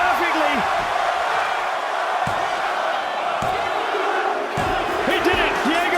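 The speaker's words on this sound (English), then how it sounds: "Listen to this crowd." A wrestling arena crowd in the video game WWE 2K25 roars steadily throughout, a dense wall of cheering with scattered whoops and a few sharp thuds.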